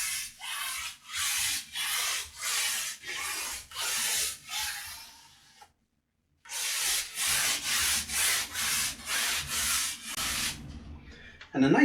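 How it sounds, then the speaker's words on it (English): A paper towel wipes down an oil painting over an acrylic base in rhythmic back-and-forth rubbing strokes, close and steady, broken by a brief silent pause before the strokes resume. "I'm just going to grab a paper towel, and again, I don't want a whole lot on here"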